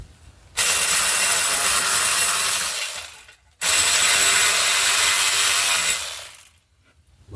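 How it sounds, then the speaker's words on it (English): A Craftsman hand tool works engine screws on a 2009 Dodge Journey during an engine installation, with two long bursts of rapid clicking ratchet action, loud and close, separated by a short pause. "That's why I like to use my Craftsman for these little screws."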